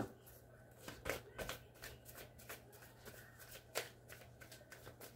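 Tarot cards shuffled in a series of soft, irregular riffling bursts against a faint steady hum, with no talking.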